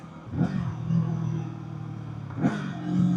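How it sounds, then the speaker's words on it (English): A 2024 Kawasaki Eliminator motorcycle engine revs up twice, each rise sharp and rasping before settling back to a steady idle rumble, close and fairly loud. "that thing revs up nicely. It sounds good decelling too."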